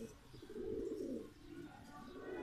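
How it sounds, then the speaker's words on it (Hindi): Soft, low cooing of a black-blue pigeon rises and falls in a murmuring roll on a rooftop, heard close against a constant background hiss. "ये किसी का कबूतर आया, काला नीला कबूतर है।"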